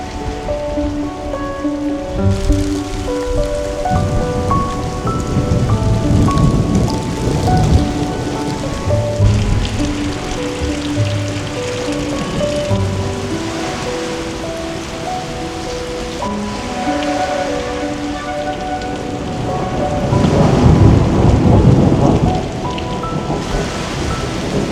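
Rain falling on Milos island in Greece, a loud, steady patter on surfaces with deep rolls of thunder swelling in the distance, alongside a soft melodic music bed and no talk.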